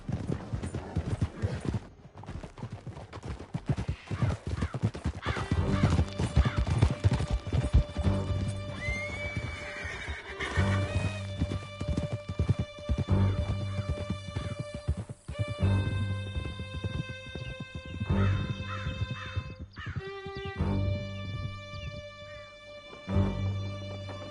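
Horses galloping hard through a canyon in Red Dead Redemption 2: a steady, close clatter of hooves with occasional whinnies, carried over sustained tonal game music throughout.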